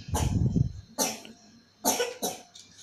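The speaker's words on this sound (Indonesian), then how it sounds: "itu anak saya lagi sakit guys lagi batuk" A sick child coughs three times in quick, harsh bursts, close and fairly loud, with short pauses between them.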